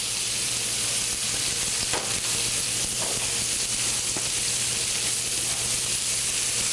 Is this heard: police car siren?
no